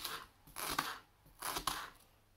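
Knife slicing through food on a board after the skin is removed, two quiet distinct cutting strokes about a second apart.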